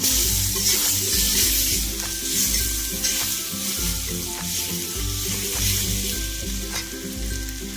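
Turmeric and chili powder frying with freshly added chopped tomato in a hot pan, a loud steady sizzle broken by repeated scraping stirs of the spatula, with no talking.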